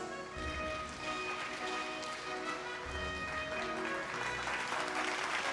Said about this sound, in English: let us give our graduates, their parents, the awardees, a round of applause.